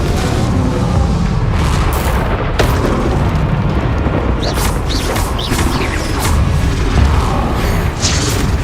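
A Confringo spell explosion in Hogwarts Legacy: a loud, booming blast followed by crackling, crashing rumble that keeps up without pause.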